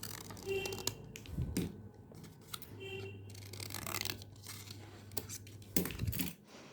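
Scissors cutting a paper heart shape, several distinct snips and paper rustles spaced a second or so apart, close and fairly quiet, with no voice over them.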